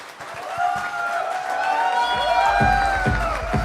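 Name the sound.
audience applause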